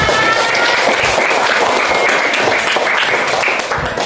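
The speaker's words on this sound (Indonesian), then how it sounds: "Boleh tepuk tangan untuk kita semua." Students in a classroom lesson clap together, loud and close, a dense and even burst of applause that fills the whole stretch and fades slightly at the very end.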